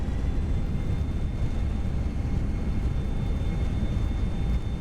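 Steady loud roar of an Airbus A320's thrust reversers after landing in the Prepar3D simulator, an FSLabs Aer Lingus flight into Cork, a continuous broadband rumble with a faint whine, no talking.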